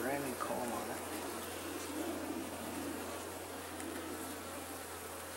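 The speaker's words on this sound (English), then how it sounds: "Very young bees here too," A dense, steady buzz of many honeybees fills the air during a hive inspection of newly installed colonies, loud and close throughout, with a faint low hum beneath.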